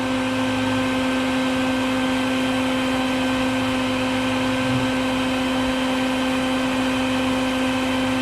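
A vacuum cleaner set up as a trap for baldfaced hornets by a walkway drones steadily with a constant motor hum, no talking.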